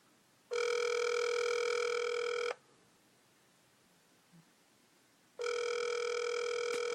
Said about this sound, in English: Let's see if we can get Levon on the phone and see what he thinks about that